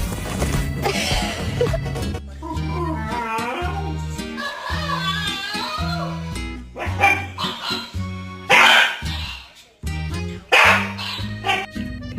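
A pet dog barks a few times in short, loud bursts near the end, over tonal background music.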